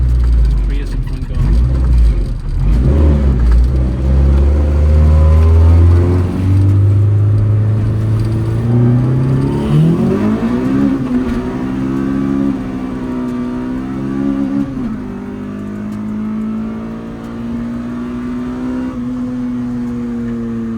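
A highly modified Honda CRX accelerating hard, its engine note climbing steadily through a long third gear pull, loud and close from inside the car, with a gear change partway and people talking over the roar.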